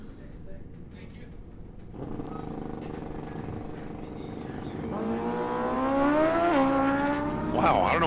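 Kawasaki motorcycle racing on a track, its engine note rising and falling through gear changes and growing louder as it approaches, under a commentator's continuous talk.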